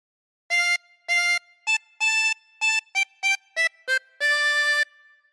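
The Oh Susanna phrase on a 24-hole tremolo harmonica, a run of about ten bright, wavering reedy notes of varying lengths ending on a longer held tone, soft and clear with no voice.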